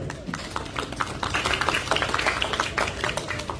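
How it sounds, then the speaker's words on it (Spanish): Clapping from a lecture audience for team B, a dense patter of many hands at moderate distance that holds steady for several seconds with no speech over it. "Un aplauso para el equipo B."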